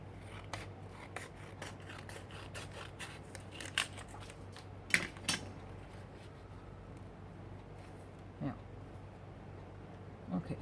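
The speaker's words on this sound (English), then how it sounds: "So I will have to cut here." Scissors snip through paper for an art journal page, sparse quiet cuts spread across a hushed room with a low steady hum underneath.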